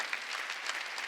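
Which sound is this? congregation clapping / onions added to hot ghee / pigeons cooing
congregation clapping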